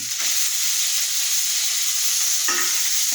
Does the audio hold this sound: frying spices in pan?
yes